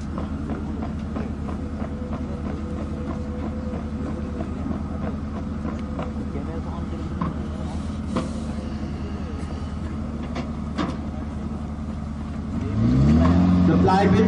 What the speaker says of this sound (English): The gun is now being moved away to its firing platform to demonstrate its firing.